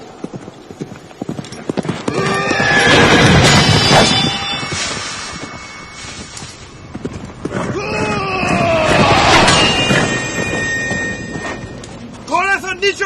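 Horses clatter with fast rhythmic hoofbeats and loud whinnies in a historical drama scene. The sound swells in two bursts and stays close and prominent, with voices shouting over parts of it.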